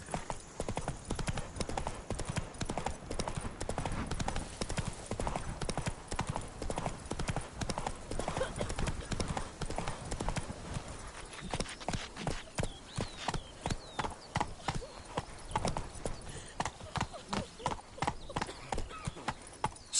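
Horse hooves clip-clop steadily at a gallop in The Witcher 3: Wild Hunt, dense rhythmic thuds continuing throughout and loosening into a slower, more spaced pace near the end, with a faint whinny.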